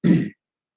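One short, close throat clear, a single gruff rasp lasting about a third of a second and then silence.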